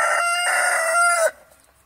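A Sussex rooster crows once, a loud sustained cock-a-doodle-doo lasting over a second before cutting off sharply.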